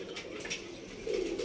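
Pigeons perched at a loft where they have just been fed grain give a soft, low cooing that swells near the end, fairly close and with no talking.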